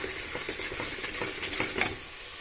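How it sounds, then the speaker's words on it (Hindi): Carrot halwa with sugar and khoya being stirred in a pan, a steady scraping and stirring with soft sizzling, close and alone with no talk, a few louder ladle scrapes near the end. "तो अब हम इसमें चीनी डाल देंगे और अच्छी तरह से हिलाएंगे।"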